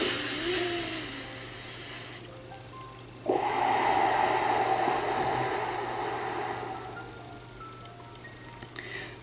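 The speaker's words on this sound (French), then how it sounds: "C'est une respiration abdominale" Slow, deep abdominal breathing in a calm meditation session: a long, rushing breath begins midway and holds steady for several seconds before fading, close to the microphone, with no talking.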